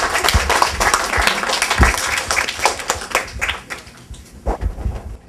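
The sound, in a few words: audience applause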